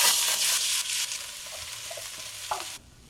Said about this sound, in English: I'm just gonna cook a sausage up